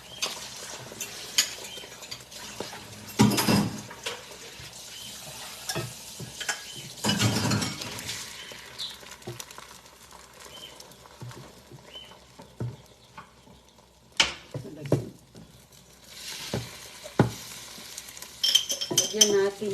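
Food is stirred and mixed in a frying pan over a soft sizzle, with irregular scrapes and clinks of a utensil against the pan and occasional louder knocks.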